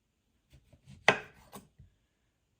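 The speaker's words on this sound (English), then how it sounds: "I'm gonna slice these into nice rounds that can be used as garnishments" A knife slicing through lemons on a cutting board, with a handful of soft, separate cuts and one sharp, louder chop near the middle, close and otherwise quiet.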